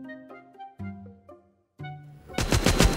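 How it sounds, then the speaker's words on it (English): Rapid machine gun fire in the video game The Walking Zombie 2 erupts as a loud, dense burst of repeated shots right after a short run of tonal game music notes. "Boom! Machine gun."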